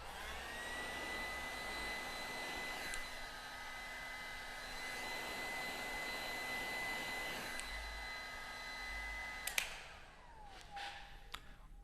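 Heat gun blowing hot air in a continuous whirring rush with a faint high whine, steady and close, ending with a click as it shuts off and the noise winds down.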